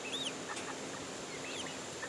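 A lavender chicken with brown highlights clucks softly near its coop, several short calls rising over quiet outdoor background.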